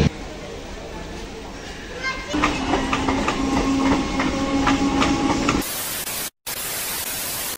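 The Purulia Superfast Express, arriving at Bishnupur Junction after the run from Bankura, rolls on the rails with a steady rumble and metallic clatter that grows louder midway, then shifts to a hissing roar as the carriage noise changes.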